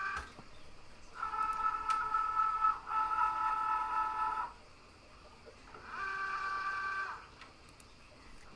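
A Cricut Joy cutting machine loads its mat with a few short motor whirs and a steady hum, heard close in a quiet room, separated by brief pauses and with no talking.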